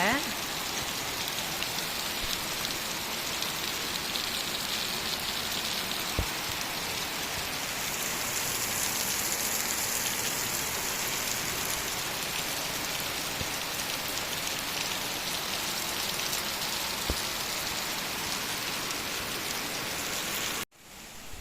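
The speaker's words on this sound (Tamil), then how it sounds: "வீட்டை சுற்றி பார்க்கலாம் நாலு பக்கமும் மழை எப்படி பெய்யுதுன்னு" Heavy rain pours all around a house in a steady, dense hiss with a constant patter of drops on surfaces nearby. It continues without a break for about twenty seconds, then cuts off abruptly.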